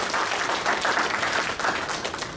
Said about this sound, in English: let's give Kris one more round of applause